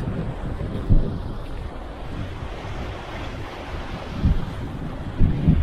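Ocean waves crash against the rocky Corsican coast near Fanale de Pietra in the Mediterranean, giving a low rolling surge with a few heavier breaks and steady wind buffeting the microphone.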